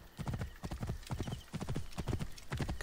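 A wild mare gallops in Assassin's Creed Origins, her hooves pounding in a fast, continuous rhythmic clatter close up, with the beat loud and steady throughout.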